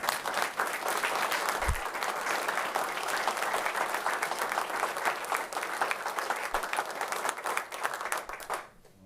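A city meeting audience applauds steadily for a woman who saved her husband with CPR. The clapping is continuous and fairly soft, with a thump near the start, and it stops abruptly at the end.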